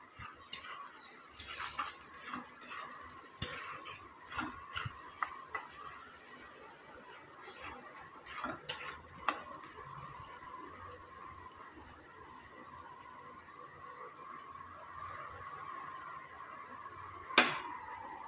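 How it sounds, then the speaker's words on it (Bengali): Potatoes and rice fry in a pan with a soft, steady sizzle, while a spatula stirs and scrapes against the pan in irregular clinks and clatters that fade to quieter frying before one last sharp knock. "আলুর সাথেই আমি একেবারে ভাজা করে নেব"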